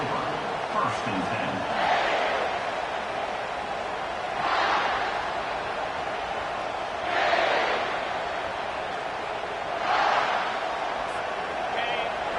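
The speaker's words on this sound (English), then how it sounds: "listen to this crowd roar" A stadium crowd in a college football video game roars in repeated swelling waves over a steady dense background of crowd noise, with the crowd alone and no talk over it.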